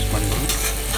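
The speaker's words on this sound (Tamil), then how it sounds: "நல்லா மிக்ஸ் பண்ணிக்கிறோம்." Beef biryani masala with dried lemon being stirred in a hot pot, a brief, loud, continuous sizzle with scraping stir noise, close and without talk.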